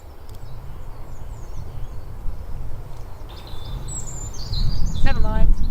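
Cetti's warbler singing from reeds at the Wildgrounds, a burst of loud, rapid, explosive notes near the end after faint scattered bird chirps, over a steady low wind rumble.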